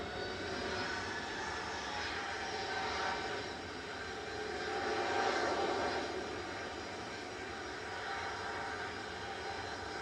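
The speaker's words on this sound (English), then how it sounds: "Heading off to Palma de Mallorca, this is GTAWU, an 11-year-old 737-800" Steady, faint jet engine rumble and whine from a Boeing 737-800 lining up for takeoff at Manchester Airport, heard from a distance with a slight swell midway.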